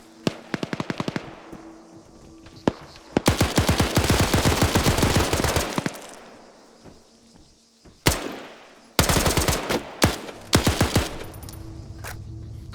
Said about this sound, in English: Last few shots by BI here